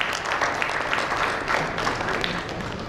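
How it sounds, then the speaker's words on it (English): Audience applause at a panel discussion on payment fraud, a steady, moderately loud wash of many hands clapping with no voices over it. "A big round of applause to Indranil."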